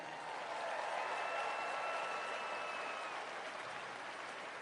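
A large arena crowd at Capital One Arena in Washington applauds in a steady, distant wash of clapping that stays even for several seconds.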